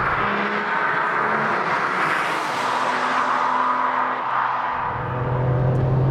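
A Porsche 959's twin-turbo engine pulls hard under acceleration, a loud rising whir and roar from the car in motion, easing briefly before the pitch resets and climbs again, with no speech.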